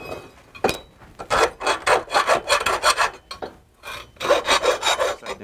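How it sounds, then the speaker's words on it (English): A hand file deburring the inside edge of freshly cut metal tubing, with quick bursts of rhythmic rasping strokes, loud and near, separated by short pauses and no talking. "Here's an easy way to deburr the inside of tubing."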